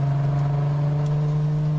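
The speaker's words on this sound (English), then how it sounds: "I love the way my car sounds in a tunnel." A car engine drones steadily while driving through a tunnel, a loud, even, vibrating hum with no break for the whole stretch.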